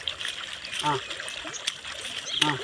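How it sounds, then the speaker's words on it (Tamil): Water poured slowly over a cow during a village Mattu Pongal bathing, a soft steady trickle with brief splashes, mid-distance, under a voice giving instructions. "நீ மேலே பொறுமையாக தண்ணி ஊற்ற, நான் தேய்ச்சிக்கிறேன்."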